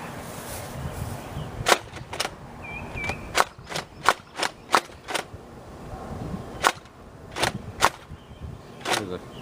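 A Buzz Bee Barbarian toy blaster fires foam darts in a dozen or so sharp, snappy pops. A few are spaced apart, then they come in a quicker run, close and clear over a light background hiss.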